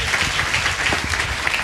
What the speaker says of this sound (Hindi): प्रभु की महिमा के लिए ताली बजाओ